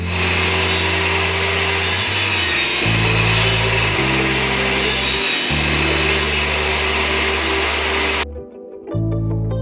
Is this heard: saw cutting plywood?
yes